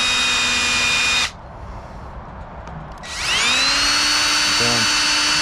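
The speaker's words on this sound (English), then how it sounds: "So I'm gonna pre-drill these so I don't split everything." A power drill bores pilot holes into wooden planter boards, whining at high speed for a burst, stopping, then spinning up again with a steady pitched whir and a brief bite into the wood.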